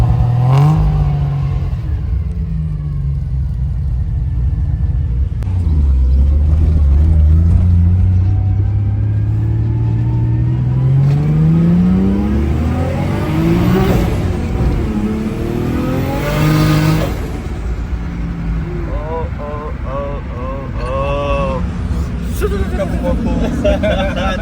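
An 800hp Nissan Skyline in Bahrain revs and accelerates while driving, its engine rising and falling in loud sweeping pulls, with voices talking over the cabin rumble.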